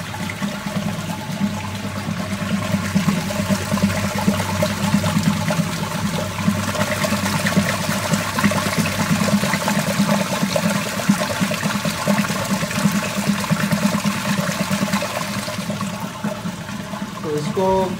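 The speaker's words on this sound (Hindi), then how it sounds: "और ग्लाइसरीन हम डाल रहे हैं 100 ग्राम।" Glycerine, 100 grams, poured into a beauty cream mixture, a steady liquid stream splashing continuously for the whole stretch, loud and close, with a voice talking partly underneath.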